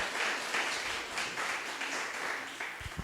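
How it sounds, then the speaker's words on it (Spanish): A church congregation applauds together, a soft, steady wash of clapping at a modest distance that continues for a few seconds before tapering off. "Den un aplauso al Señor, mi hermano, mi hermana"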